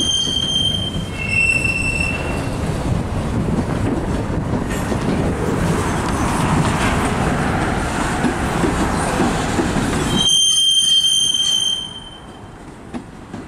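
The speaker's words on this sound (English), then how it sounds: "that's a very long coal train" A long coal freight train rolls by close up, wheels squealing in high tones over a continuous rumble and clatter, fading away near the end.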